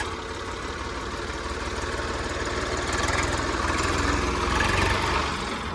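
A 2008 Swaraj 855 tractor engine in well-kept condition runs loudly up close with a steady knocking diesel chug, swelling briefly as it is revved before settling back.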